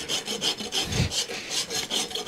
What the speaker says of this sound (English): One thing about a small hoof like this, it doesn't take much rasping